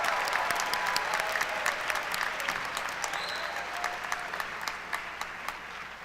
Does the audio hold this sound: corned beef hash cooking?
no